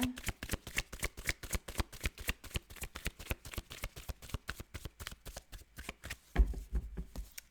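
Tarot cards are shuffled in a rapid, steady run of crisp riffling snaps, close and fairly quiet, ending with a few soft taps as cards are set down.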